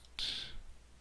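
A single crisp computer mouse click, close and clear, while straight lines are being drawn on a computer; brief silence follows.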